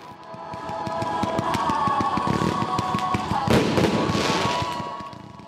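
New Year fireworks over a Damascus Christmas market crowd: dense, rapid crackling bursts and pops continue throughout, loud and close, with a heavier cluster of explosions midway.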